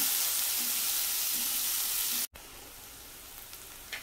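Onion sautés in oil in a pan with a soft, steady sizzle and light hiss. The sizzle cuts out for an instant partway through, then returns quieter, with a few small pops and no talking.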